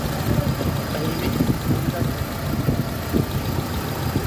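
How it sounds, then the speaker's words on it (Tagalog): Gasoline 4G63 engine of a Mitsubishi Adventure idling after an ignition coil and distributor repair, a steady low mechanical rumble with faint knocking texture, heard up close and continuous. "Ayan, narinig yung makina."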